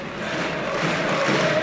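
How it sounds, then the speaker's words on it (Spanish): A large crowd cheers and shouts continuously, a dense roar of many voices with a faint steady tone underneath. "Entre los aplausos, los vivas, los cánticos"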